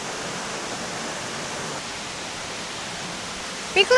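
Broad, constant rush of the Val Montareze waterfall on the Cordevole torrent, near Sedico, roaring evenly throughout, with a brief voice breaking in at the very end.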